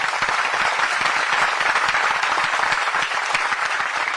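Applause for hunger strikers from a gathered crowd: dense, steady clapping that stays loud and close throughout, with no speech over it.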